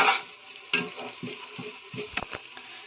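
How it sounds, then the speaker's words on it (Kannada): Masala paste for egg biryani frying in a pan, a soft hiss of oil with several scraping stirs and light clinks of a spatula against metal, close and fairly quiet. "ಈಗ ಅವಾಗೆ ತೋರಿಸಿರೋ ಮಸಾಲೆಗಳನ್ನೆಲ್ಲ ಹಾಕ್ಬಿಟ್ಟು ಒಂದು 2-3 ಮಿನಿಟ್ಸ್ ಫ್ರೈ ಮಾಡಿ."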